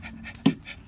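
A person playing charades imitates a panting dog with short breathy puffs, one sharper louder pant near the middle, close and alone without speech.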